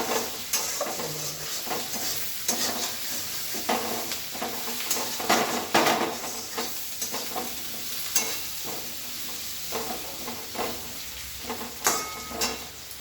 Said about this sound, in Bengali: দিয়ে আলুটা একটু ভেজে নেবো